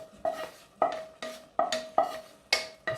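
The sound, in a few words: stirring chickpeas and mushrooms together in a pan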